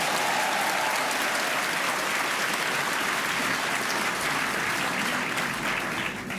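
An audience at a Kenyan diaspora gathering applauds in a dense, sustained burst of clapping that fills the room and holds steady for several seconds before easing slightly at the end.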